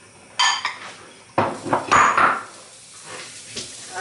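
A spoon scrapes and knocks inside a pot while a cake filling is stirred, producing irregular close clanks and scraping bursts with quieter gaps between them.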